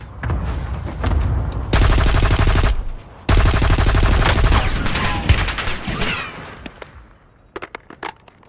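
Automatic weapon fire in the video game Warzone: two long, loud, sustained bursts of rapid shots, then a few scattered single shots as the firing trails off.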